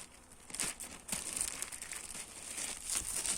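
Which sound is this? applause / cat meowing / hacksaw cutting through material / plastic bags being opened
plastic bags being opened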